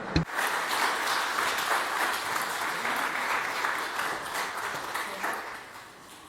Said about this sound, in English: In še aplavz za gospo.